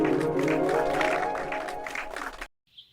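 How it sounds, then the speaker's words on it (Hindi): A crowd of villagers claps loudly and steadily in a dense burst for about two and a half seconds, then it cuts off abruptly to near silence. "अरे मारो ताली जोर से।"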